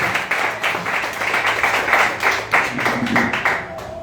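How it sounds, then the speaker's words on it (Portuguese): A church congregation applauding at a service: dense, continuous clapping from many hands, fairly loud and close, with a few voices mixed in. "Aplaude Jesus, amém?"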